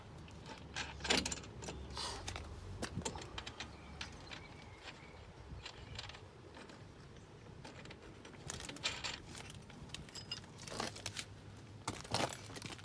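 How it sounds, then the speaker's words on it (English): Metal bolts and washers being sorted and handled in a caravan restoration workshop, giving light intermittent clinks and jangles close by, with quiet rustling between bursts. "Just an array of different bolts and washers"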